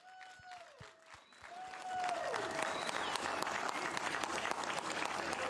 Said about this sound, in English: Give him a huge round of applause from Queensland, Upper Coomera, Isaac Leathon.